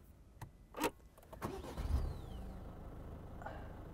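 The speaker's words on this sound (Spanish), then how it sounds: "Vamos a pisar el embrague y vamos a arrancar este estupendo Corsa." An Opel Corsa engine starts with the clutch pressed: a short cranking burst, then it catches and settles into a steady, close, rumbling idle with no talk over it.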